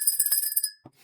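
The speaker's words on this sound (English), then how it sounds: "I love this little bell." A small bell rings in a rapid trill of bright metallic strikes, close and clear, then stops abruptly with a faint knock and a little room noise after.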